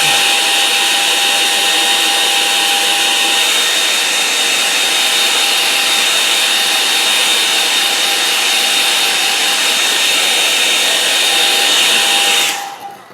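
A hair dryer blows loudly and steadily over a watercolour painting for about twelve seconds, then cuts off abruptly. No one speaks.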